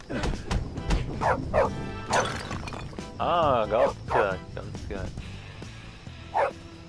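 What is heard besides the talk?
dog barking in the video game Canis Canem Edit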